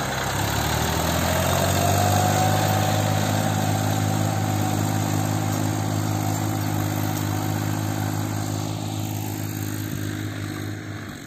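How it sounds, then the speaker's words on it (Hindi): Massey Ferguson 7250 tractor engine running steadily in the open on a cool early morning, a loud, continuous low diesel drone with even harmonic rumble that holds throughout and eases slightly at the end. "ये 7250 एरो के साथ चल रहा है, जबरदस्त एरो लगता है दोस्तों।"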